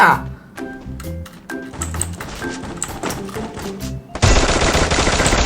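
A newly unlocked gun firing in the video game Free Fire: scattered single shots and clicks build into a loud, sustained rapid burst near the end, with a voice talking over it.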